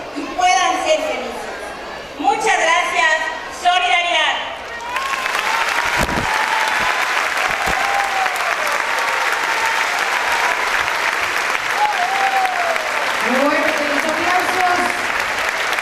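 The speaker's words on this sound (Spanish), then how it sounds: "Palabras sinceras que generaron un fuerte aplauso" An audience at a public report of labors for the DIF bursts into loud, sustained applause with some cheering and chatter, after brief speech at the start, the clapping continuing strongly for over ten seconds.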